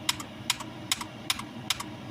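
Keys clacking on a Gaming Sixno KB751 keyboard, six crisp separate strokes spaced roughly evenly, near and clear over a quiet room.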